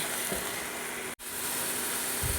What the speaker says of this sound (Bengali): পেঁয়াজ ভাজা ভাজা হয়ে গেছে